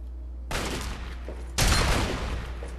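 Shotgun fire in Fallout 3: two loud, blasting shots about a second apart, each a broad burst with a rumbling tail, the second one heavier, and no voices over them.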